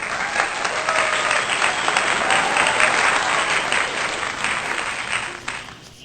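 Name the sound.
audience applause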